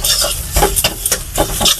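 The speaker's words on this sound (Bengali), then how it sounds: "আর একটু ভাজুক। এইভাবে করে নাড়াচাড়া করে নেবেন।" Spices with turmeric and salt fry in a pan while a utensil stirs them, giving short scraping strokes over a steady sizzle, close and fairly loud.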